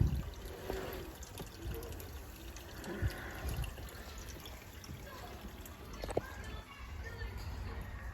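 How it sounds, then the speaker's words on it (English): Water from the fish tank splashes and trickles as an Aqua One Horizon aquarium filter is rinsed, with irregular pours and drips under a person talking nearby. "I'm going to clean the filter, and I'm going to use water that I've taken from the fish tank to clean the filter"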